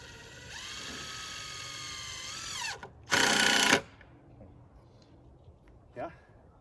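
A power drill drives screws while stair stringers are tacked up for outdoor stairs built on a hill: a long whirring run with falling pitch as a screw seats, then a short, loud ratcheting burst, and a brief final buzz.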